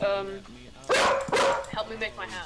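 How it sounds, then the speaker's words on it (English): A dog barks a few times in a home during a Minecraft gaming session, sharp yips rising over a person speaking nearby. "Sorry about the dog."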